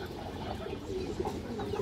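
Pigeon softly cooing on a farm loft, low murmuring coos running continuously and quietly over steady background noise.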